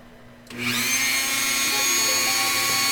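Dremel rotary tool grinding a piece of glass flat, starting abruptly and holding a loud, steady high-pitched whine with a sustained motor tone throughout.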